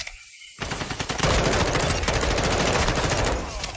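Rapid automatic M4 rifle fire from the video game Modern Warfare 2 erupts after a brief quiet moment, a dense, loud stream of overlapping shots continuing to the end.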